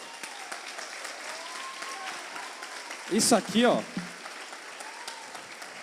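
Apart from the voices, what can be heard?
audience applause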